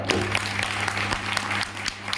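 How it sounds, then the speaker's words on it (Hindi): Seminar audience applauding for a business presentation in Kaushambi, a dense steady wash of clapping lasting the whole moment, moderately loud with a low electrical hum underneath. "वाइटियम के लिए एक शानदार तालियां सर।"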